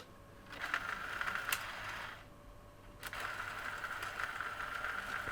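A PS3 Slim disc drive mechanism whirring as its side wheels pull in a disc, a steady close mechanical hum and grind with a brief pause and clicks partway through, alone without talk.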